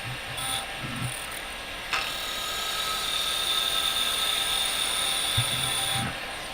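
A woodturning lathe spins a piece of cherry wood with tenons cut in both ends, giving a steady whining hum with a high tonal ring as it cleans up the surface. A few soft knocks sit near the start and end.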